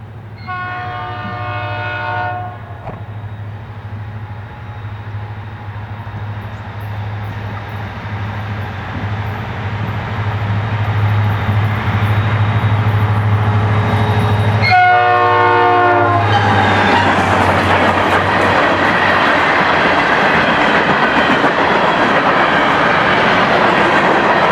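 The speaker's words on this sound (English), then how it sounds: "With the rock train headed south" FEC rock train hauled by EMD locomotives sounding a horn at the start and again mid-way, with diesel rumble and wheel clatter building as the long train rolls past close by.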